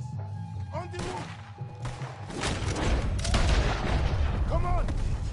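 Booming cannon shots and rumbling blasts in a chaotic Red Dead Redemption 2 battle on Guarma, with shouting voices and gunfire layered over the explosions.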